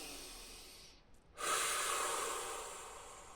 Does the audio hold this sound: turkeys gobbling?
no